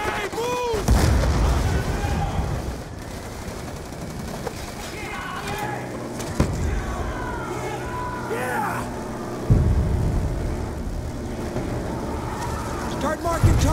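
A grenade blast and gunfire in the video game Call of Duty Black Ops 2, booming explosions and rattling shots layered over a rumbling battle din while voices shout over the action.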